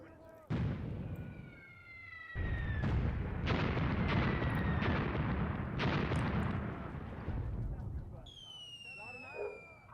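Artillery fire in the wartime tactics game Graviteam Tactics: Mius Front, a series of heavy booming blasts and rumbling impacts that roll over one another across the clip, with whistling tones overhead.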